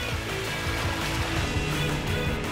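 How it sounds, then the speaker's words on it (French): Waves breaking across a tidal passage where opposing currents meet, a loud continuous wash of churning water with a rumbling low end. "Et les vagues cassent pile au milieu du passage."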